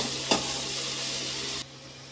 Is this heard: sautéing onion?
yes